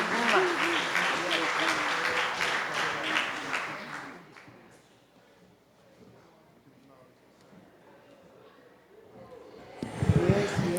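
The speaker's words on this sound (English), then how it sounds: "Let's have another round of applause" Audience applause at an NAACP Founder's Day gathering, a dense wash of clapping over the first four seconds that fades to a quiet murmur, then swells briefly again near the end.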